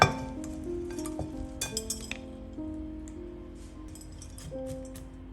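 Freshly coated popcorn being tipped from a pan into a bowl, giving soft rattling and clinking of kernels against dishware, faint and close, with a few sharper taps and no talking.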